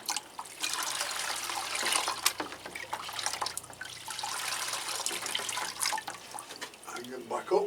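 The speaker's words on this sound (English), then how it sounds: "Get these a good watering." Cattleya orchids in a greenhouse get a thorough watering, a moderate, continuous spray and splash of water running over the plants, with a voice talking over it at times.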